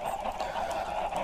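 Minecraft chickens clucking and squawking in a steady, dense game-audio stream, fairly close and continuous for a moment with no talking.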